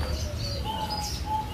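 Several songbirds at a bird farm chirp and whistle in short, thin, high calls that overlap against a low steady background hum.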